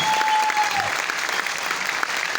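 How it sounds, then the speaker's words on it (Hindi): Loud, steady applause from an audience at a recognition ceremony, a dense wash of clapping filling the whole moment, with a brief whistle or feedback tone early on. "एक बार जोरदार तालियां उनके स्टेज पे होना चाहिए दोस्तों, जोरदार तालियां"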